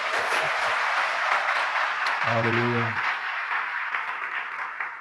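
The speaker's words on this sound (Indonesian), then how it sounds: "Berikan tepuk tangan kita untuk Tuhan kita" A church congregation claps during a sermon, a steady wash of applause throughout, with a voice briefly calling out in the middle.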